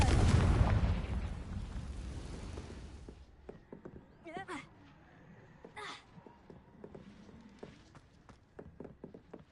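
A Confringo fire spell detonates in Hogwarts Legacy, a loud booming burst up front that rumbles and fades over a few seconds, followed by scattered faint clicks and small effects, with a speaking voice present.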